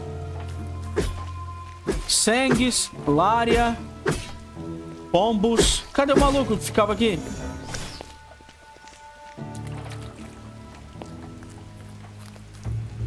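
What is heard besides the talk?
rain falling in the video game Drova - Forsaken Kin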